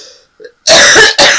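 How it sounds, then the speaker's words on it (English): A woman coughs twice, harsh and loud up close: a long first burst followed by a short second one after a soft throat noise. "I have an awful cough, and it's going to come up"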